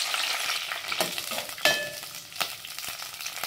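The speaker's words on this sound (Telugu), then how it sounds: "ముందుగా మిర్చి వేయించుకున్నా." Green chillies frying in hot oil in a pan on a stove, with a soft continuous sizzle and occasional stirring scrapes, heard close and alone.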